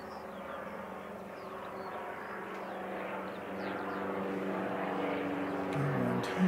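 An Air New Zealand ATR turboprop airliner arriving at the Canterbury Aero Club airfield, its propeller drone growing steadily louder as it approaches, with faint birdsong above it.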